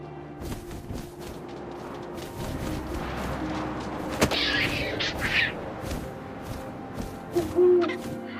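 An owl hoots in the video game What Remains of Edith Finch, with a few soft calls rising over a windy, rustling game ambience, and brief sharp thuds near the end.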